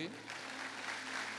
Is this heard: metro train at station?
no